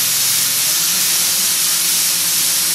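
A 2005 Makino a51 machining center spindle runs at 8,000 RPM, giving a loud, steady hiss with a faint constant whine underneath and no voices.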